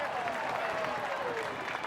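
A stadium crowd at Shark Park, PointsBet Stadium, applauds during a Cronulla-Sutherland Sharks v Gold Coast Titans NRL rugby league match, a steady wash of clapping and murmur heard from a distance.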